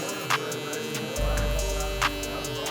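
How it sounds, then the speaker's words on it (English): An electric hair trimmer hums with a steady low buzz in a barbershop, held close and growing louder partway through, with faint clicks around it. "Since I already got the trimmer in my hand"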